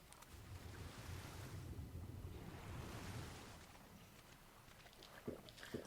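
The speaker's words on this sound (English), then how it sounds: "Oh, I'll just jump in the water." Water washing and surging after a jump into it in the video game Ark, a soft continuous swell of splashing and rushing, faint and unbroken, with a couple of small splashes near the end.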